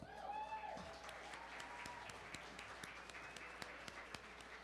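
Audience applause at a women's recognition reception, a thin scattered patter of claps, fairly quiet, with a few louder individual claps standing out and faint voices beneath.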